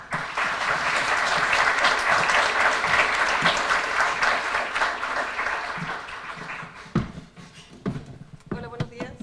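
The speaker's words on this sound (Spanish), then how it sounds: "Recibimos entonces con un aplauso" Sustained applause from a seminar audience on regional workforce development in Valparaíso, loud and dense, greeting an arriving speaker before thinning out to scattered claps and small room noises near the end.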